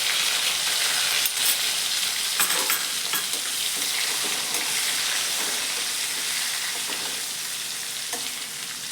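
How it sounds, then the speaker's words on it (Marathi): Ginger garlic paste and tomatoes frying in hot oil for matar paneer pulao, a loud, steady crackling sizzle with occasional stirring clinks throughout, close and continuous with no talk. "त्यानंतर अद्रक लसूण पेस्ट, त्यानंतर टॅमॅटो टाकून घेऊयात।"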